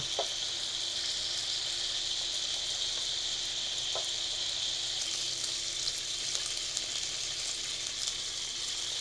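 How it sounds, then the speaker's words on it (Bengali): Chicken pieces frying in oil for a homestyle murgi curry, giving a steady, even sizzle with a few faint pops throughout. "চিকেনগুলো আমি চার মিনিটের মতন ভেজে নিয়েছি"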